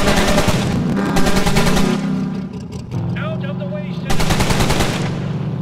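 Loud, rapid machine-gun fire from a RoadKill vehicle combat game, dense bursts at the start and again near the end, with engine noise and speech overlapping the shooting.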